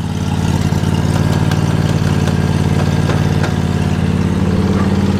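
An MTD lawn tractor engine idles steadily at close range, a constant low rumble with a faint rattle throughout, no voices.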